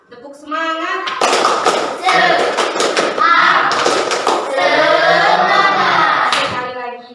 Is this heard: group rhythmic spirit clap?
yes